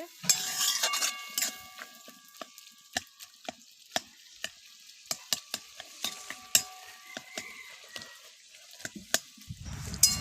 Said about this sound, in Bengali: অল্প জল দিয়ে দিলেন এটা, তারপর একটু মানে আলুর সঙ্গে একটু মশলাটা মাংসটা একটু কষে নেবো।